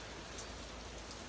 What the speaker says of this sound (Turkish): Yağmur gerçekten o kadar çok zorluyor ki.